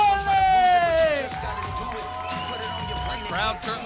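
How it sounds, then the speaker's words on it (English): Wrestling crowd cheering and whooping for champion Prime Time at a live Friday night show, loud at first and tapering, with a commentator talking over it. "Crowd certainly excited here for prime time."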